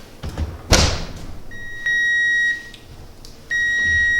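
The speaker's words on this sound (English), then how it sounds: "So there's the timer going off." An electronic timer beeps in two long steady tones after a few knocks and a thump, nearby and fairly loud in a quiet room.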